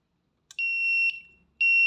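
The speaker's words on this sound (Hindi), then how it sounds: "ये बज़र लगा हुआ है कि बज़र जो है ये बता रहा है कि आपका जनरेटर स्टार्ट नहीं हो रहा" ATS AMF controller error buzzer signalling a generator that failed to start, two loud, steady electronic beeps, the first about half a second long and the second starting at the end, in a quiet room.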